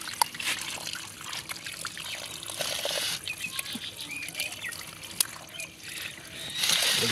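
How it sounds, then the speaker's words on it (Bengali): Water trickles and splashes steadily as shing catfish are rinsed by hand, with a voice speaking over the wet, continuous sloshing. "মাছগুলোকে ভালো করে ধুয়ে নিবা।"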